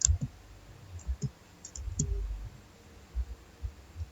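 A few scattered keyboard key clicks while a password is typed into a Linux terminal inside a VMware virtual machine, soft and sparse with gaps, over low background hum.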